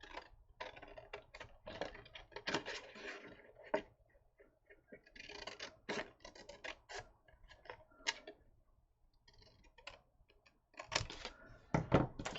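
Paper for a Valentine album is cut out just inside a drawn line, giving quiet, irregular crisp snips and cutting noises in short bursts with pauses between them. Nobody speaks.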